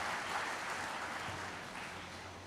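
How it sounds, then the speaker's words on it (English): Steady applause from the audience at an architecture talk on Indian urban development featuring Patrik Schumacher, a quiet, even wash of clapping heard from a distance that holds for the whole stretch. "we should really give him another applause"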